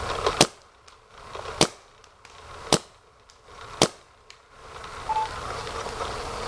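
A Luxe 2.0 paintball marker fires four sharp, loud shots spaced about a second apart, each a crisp pop with a short tail, against a quiet background.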